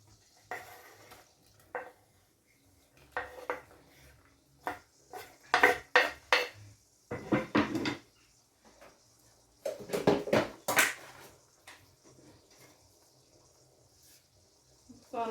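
Garlic, onions and spring onions go into a pot for Jamaican rice and peas, producing a scattered run of clattering knocks, scrapes and dull thuds against the metal at close range.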